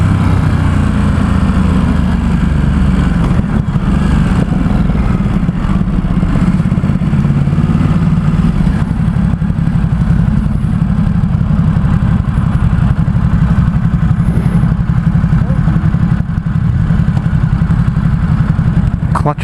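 A 2017 Ducati SuperSport S motorcycle pulls away in first and then second gear around 34 mph in San Francisco, its engine a loud, continuous low rumble with rushing wind, and a rider's voice briefly over it.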